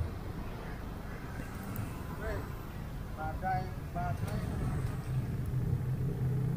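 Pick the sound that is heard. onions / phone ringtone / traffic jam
traffic jam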